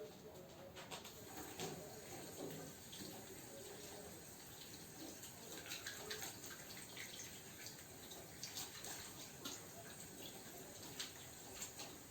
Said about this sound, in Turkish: Ee, elimi bir yıkayayım ya.